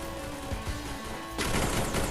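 M500 gunshots in the Free Fire mobile game. A few scattered shots come first, then a sharp burst of fire at about 1.4 seconds keeps going loudly to the end of the clip.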